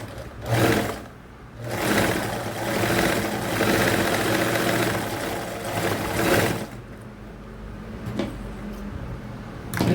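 An old sewing machine stitching a seam on a diaper cover, running in sustained mechanical bursts with a steady rhythmic hum, fairly close and moderately loud, with short pauses between runs.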